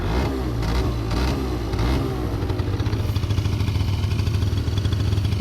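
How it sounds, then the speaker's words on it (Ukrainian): Honda Tact AF30 scooter, a Japanese import, kick-started and settling into a steady idle: loud close-up engine with rapid putter and clatter, dense low rumble throughout, no talking. "Зараз заведемо його з кікстартера."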